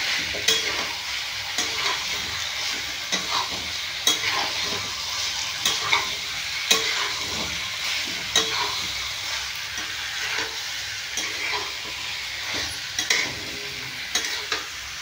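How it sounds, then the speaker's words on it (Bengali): Fried capsicum tossed into a hot pan and stirred, with a steady close sizzle broken by repeated scraping and clinking strokes of the spoon over about fifteen seconds. "এরপর আমি দিয়ে দেবো ক্যাপসিকাম, ভেজে রেখেছিলাম, এটা আমি দিয়ে দিচ্ছি"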